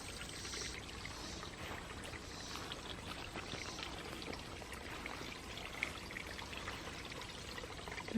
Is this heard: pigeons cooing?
no